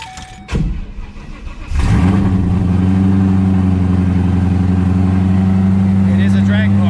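A Ford GT500 drag car with 8,443 miles starts up and settles into a loud, steady, rumbling idle close by, its deep droning tone holding constant after a brief crank.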